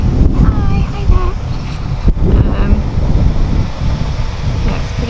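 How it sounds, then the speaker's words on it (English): Cold wind buffets a microphone outdoors beside a rented campervan, a constant low rumbling roar that fills the clip, loud and close. "Oh, that's the wind, the cold wind."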